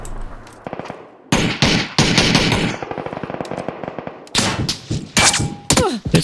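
Loud bursts of automatic gunfire in a battle-royale shooter game, rapid rattling volleys with short pauses between them, followed by a few single sharp shots near the end.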